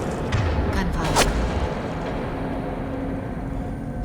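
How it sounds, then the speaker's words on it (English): Gunfire and explosive booms in the derelict Reaper level of the video game Mass Effect 2, one sharp blast standing out over a steady loud rumble of combat noise. "Gunfire."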